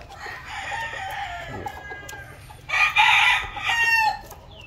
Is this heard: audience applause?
no